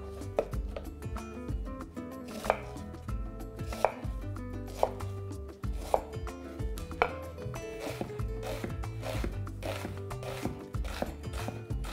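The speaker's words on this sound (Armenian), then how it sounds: "Կարմիր սոխը կտրատում ենք մանր։" Red onion being finely chopped on a board, a quick steady run of crisp knife strikes close by, even in rhythm and heard alone, with no talking.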